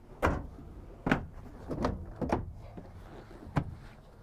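Deep drawers in a 2021 Nexus Triumph 32TSC RV camper slide and bump shut, about six separate knocks and rolling slides spaced over a few seconds, close and fairly loud with no talking.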